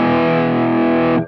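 An electric guitar through a Dr McFarland amp model on a Headrush rig, slightly honky and dry without reverb, rings out as one loud sustained chord that cuts off abruptly after just over a second.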